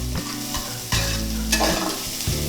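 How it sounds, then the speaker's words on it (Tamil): Drumstick leaf soup ingredients being sautéed briefly in a pan: a loud, steady sizzle with repeated scraping stirs at close range, and no talking. "சும்மா கொஞ்ச நேரம் வதக்கினா போதும்."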